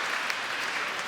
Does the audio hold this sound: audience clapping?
yes